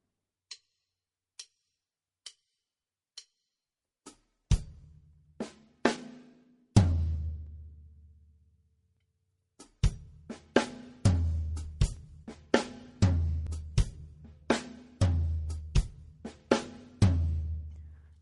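A drum kit plays alone: sparse ticking hi-hat hits at first, then full groove with booming floor tom and snare hits in a repeating pattern.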